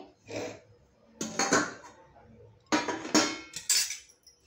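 Dried small prawns are tipped into a kadhai on a gas stove, giving several scattered clinks and rattling bursts in quick clusters, fairly close and moderate in loudness.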